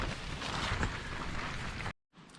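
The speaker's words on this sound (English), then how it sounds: "oh, it's getting windy." Broad rushing wind noise buffets steadily for a couple of seconds, then cuts out briefly before a quieter gust returns.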